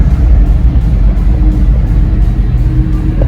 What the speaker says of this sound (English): You can hear them on the track. Yeah, they racing.